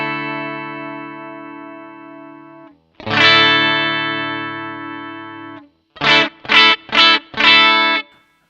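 Electric guitar with a coil-split humbucker through a graphic EQ pedal with one frequency boosted, a sustained distorted chord ringing out, then a second held chord and four quick choppy strums followed by a last longer one.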